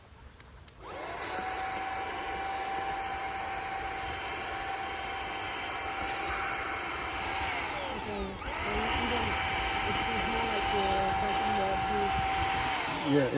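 A small handheld car vacuum whines steadily at close range, sucking up beetles in a beehive, its motor pitch dipping briefly midway, while a person talks over it.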